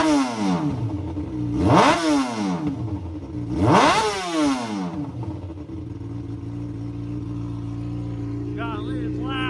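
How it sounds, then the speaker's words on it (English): A Kawasaki ZX6R with a modified exhaust revs hard twice, each blip rising and falling sharply, then settles into a loud, rough idle close by. "let's start up and listen to how terrible it sounds"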